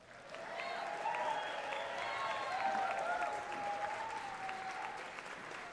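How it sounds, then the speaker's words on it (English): An audience at the Longmont High School Band Winter Concert gives loud, sustained applause with cheering and whistles riding above the clapping, swelling in the middle and holding steady to the end. "Can I hear one more round of applause for the Whips?"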